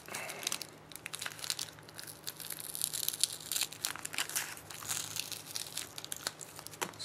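Plastic packaging from an Arduino starter kit is opened close by, producing continuous crinkling and crackling with irregular sharper rustles throughout.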